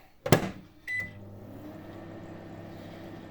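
Microwave oven heating silicone fishing-lure plastic, with a door clunk and a short beep followed by a steady low hum running alone.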